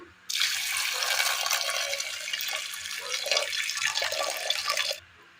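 Water pours steadily into a metal pressure cooker for about five seconds, a close, full rushing splash that stops abruptly.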